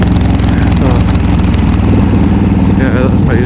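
Yamaha V Star 1300 cruiser motorcycle engine pulling at higher RPM while riding, a steady loud droning rumble with harmonic engine tones throughout, with some wind noise.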